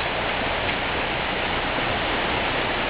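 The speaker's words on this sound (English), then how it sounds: "The lake offers a constant sound." Water at a lake rushes in a steady, dense hiss, unbroken and fairly loud throughout, with no other sounds standing out.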